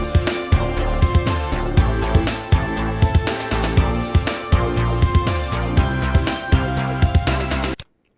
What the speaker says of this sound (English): So that's our backing track